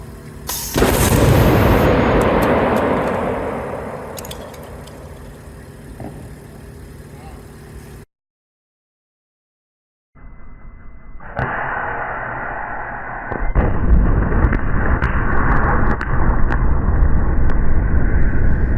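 A Lorentz plasma cannon fires from a capacitor bank charged to 210,000 volts, giving a sharp, loud bang that decays into a long rumble, followed after a silence by a harsh, steady roar; people talk around it.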